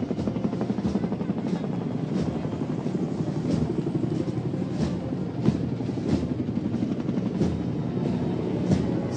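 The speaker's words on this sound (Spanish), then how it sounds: "en el desfile de las aeronaves del Ejército Argentino, cuatro helicópteros B-206 de la Escuela de Aviación del Ejército" Four Army B-206 helicopters fly past in a military parade, their rotors thudding in a steady, continuous pulsing drone at moderate distance.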